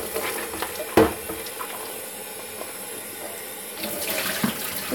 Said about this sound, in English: it looks like we gotta rinse out this bucket